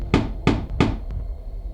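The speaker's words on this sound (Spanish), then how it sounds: "Y entonces llamaron a la puerta." Three sharp knocks on a door in an even rhythm, close and loud, followed by quiet.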